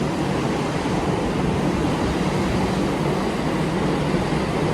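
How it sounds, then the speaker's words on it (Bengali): Metro train arriving at a station, a steady, loud rushing and rumbling roar that stays constant throughout with no pauses or voices. "ফাইনালি গাইস আমাদের মেট্রো চলে এসছে।"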